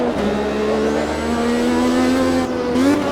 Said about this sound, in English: Listen out for any lumpiness in the sound of the engine